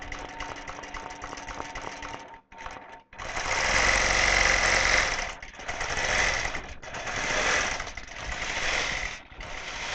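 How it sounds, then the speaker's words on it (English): A computerized quilting machine stitches in steady mechanical bursts, its rapid needle clatter running loud and close with two brief pauses and a few short dips between runs. "it'll take a stitch and tie off, and then it'll start doing the quilting"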